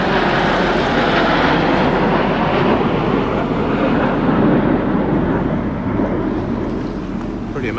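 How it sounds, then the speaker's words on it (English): Red Arrows Folland Gnat trainer fighter jets fly past overhead at an air display, a loud, broad continuous roar that holds steady for the whole stretch and eases only slightly at the end. "These are trainer fighter planes."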